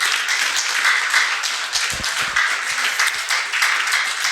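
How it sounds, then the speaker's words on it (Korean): Audience at a lecture on smartphone use applauding, a brisk round of mixed clapping from a nearby crowd with a few louder individual claps, continuous for several seconds. "그 뜻이 옳으면 박수 부탁합니다."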